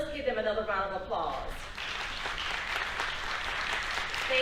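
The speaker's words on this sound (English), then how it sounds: "Let's give them another round of applause." Applause for colleagues at a virtual parent orientation rises under a voice that is still speaking, then continues as a soft, even wash of clapping.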